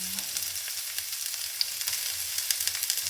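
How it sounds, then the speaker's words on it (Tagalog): Garlic and onion sauté in a hot frying pan, a steady close sizzle with small crackles and pops throughout, no talking over it. "Ang una kong gigisahin, loya at bawang."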